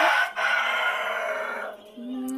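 A rooster crowing close and loud, one drawn-out cock-a-doodle-doo that trails off, followed by a short clucking call among pet birds.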